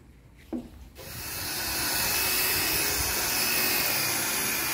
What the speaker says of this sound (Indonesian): nanti kita poles pakai mesin poles